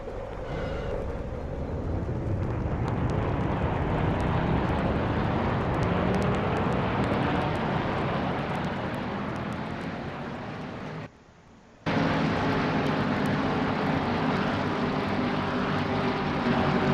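Race car engines roar at Talladega as a Pro Cup field rolls off on its parade lap: a loud, sustained engine drone with a brief drop in the middle before it resumes at full strength.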